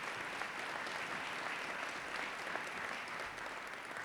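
A large audience at an NYPD medal ceremony claps steadily in a dense, even wash of applause that holds at the same level from start to finish, with no voices standing out.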